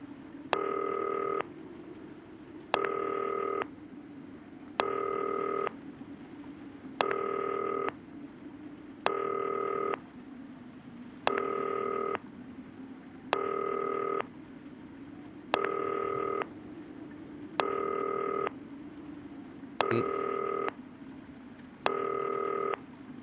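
A telephone in the video game Not For Broadcast dials and rings, giving about eleven evenly spaced electronic tone bursts roughly every two seconds over a low background hum.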